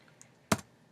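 A single sharp keystroke on a computer keyboard, close and clear, preceded by a faint lighter tap in an otherwise quiet room.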